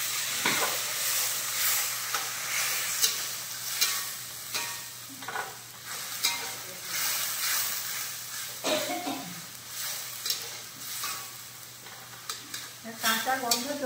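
Ginger-garlic paste fries with browned onions in a pan, giving a steady sizzle broken by repeated scraping stirs of a spatula, close and moderately loud.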